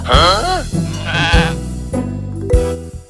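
A goat bleats loudly and close by in a rural comedy sketch. Several wavering, nasal cries follow one another over about three seconds, with a low background hum.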